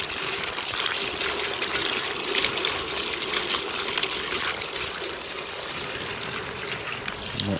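Rainwater running from a house gutter into a garden swale, a continuous rushing trickle and splatter of water close by, with faint speech over it.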